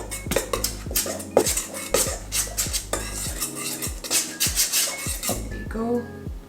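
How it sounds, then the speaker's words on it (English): A knife mixing butter into flour in a bowl for blueberry scones, repeated rhythmic scraping and clinking of metal against the bowl at close range, with brief kitchen knocks. "I'm gonna use this knife and I'm gonna mix the flour and the butter"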